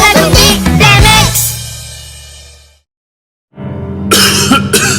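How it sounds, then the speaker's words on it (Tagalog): Several harsh coughs burst out in quick succession up close, then the sound fades to a brief silence before more loud coughing resumes. "Inuubo ka? Lahat inuubo."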